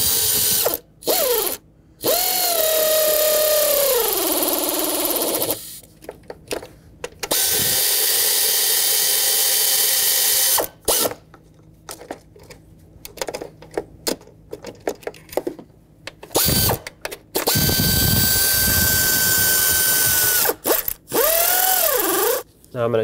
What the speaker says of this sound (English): I'm using my air ratchet, but I'm not using it to tighten it